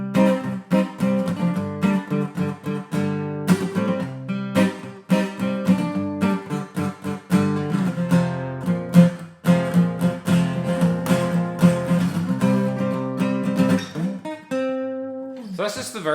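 Acoustic guitar strumming the verse of a song in a steady chord rhythm, played alone and close, continuing without pause for the whole passage.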